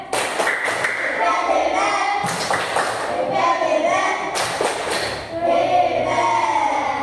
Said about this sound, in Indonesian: Kalau sudah benar kita beri tepuk hebat.